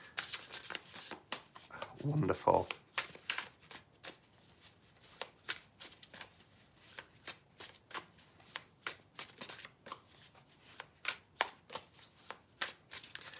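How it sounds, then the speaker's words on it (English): Marseilles tarot card decks being shuffled in repeated riffling bursts throughout, close and clear, with a person talking over part of it. "I love how these shuffle. No dropsies with these decks."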